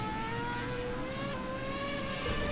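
A Formula 1 race car in a racing video game spins out onto the grass, its engine whining at a steady high pitch. The pitch wavers and shifts once partway through.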